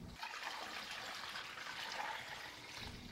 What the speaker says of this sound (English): First, add 2 gallons of cold water to the sanitized,